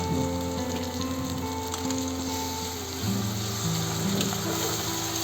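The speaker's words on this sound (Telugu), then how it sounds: "ఫ్రై చేస్తున్నాను ఫ్రెండ్స్." Onions, chillies and tomato paste fry in hot oil, giving a steady, close sizzle that runs unbroken throughout with no voices over it.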